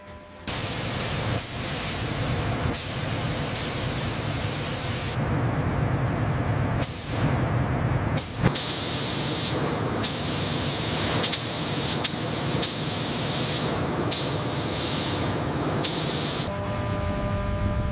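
Spray paint hisses in long, loud bursts with short breaks between them as an M1126 Stryker armored vehicle is coated in a factory.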